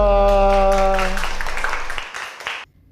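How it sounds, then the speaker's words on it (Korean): Children's church worship service ending a sung hymn with congregational applause, dense clapping rising under the last sustained chord and then cutting off abruptly into near silence. "하나님께 영광의 박수 올리겠습니다"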